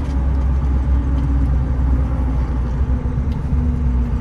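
A 2004 Ford F-350 Lariat 4WD with the 6.0L Powerstroke diesel driving, a steady low engine and road rumble heard from inside the cab, continuous and fairly loud.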